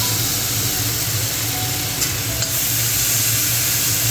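Chillies frying with reddened onions in a pan give a constant close, loud sizzle and hiss, steady from start to end with faint stirring scrapes mixed in.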